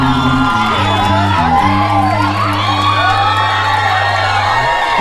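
A crowd at a live outdoor event at the Rincón de la Alegría riverside resort cheers, whoops and shouts loudly, all over a steady sustained droning tone.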